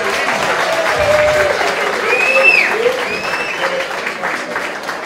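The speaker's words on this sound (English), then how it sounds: "have a nice round of applause for these athletes." A crowd applauds young boxers at a Golden Gloves amateur boxing tournament, sustained clapping in a hall with scattered whistles and cheers.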